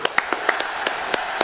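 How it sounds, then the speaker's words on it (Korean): Sparse hand claps from a small group in an indoor studio, about nine sharp, separate claps spread irregularly across the moment, close and crisp against a quiet background. "자, 박수!"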